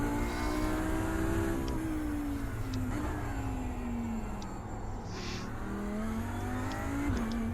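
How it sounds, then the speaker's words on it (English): A GT3 race car engine in the iRacing video game drones loudly and steadily, rising and falling in pitch as it accelerates and shifts, with no voices. "This car is loud."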